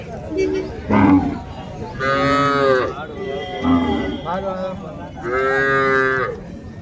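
Native breed cattle moo at the Madrapalli cattle market, with several loud, close, drawn-out calls in a row and people talking between them.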